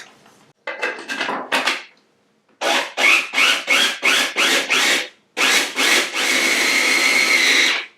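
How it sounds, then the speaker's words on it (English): A Cuisinart mini food chopper grinds rolled oats in a string of short pulsed bursts, loud and close, ending with one longer continuous whir; no one speaks. "This Cuisinart mini food chopper is one of my kitchen must-haves."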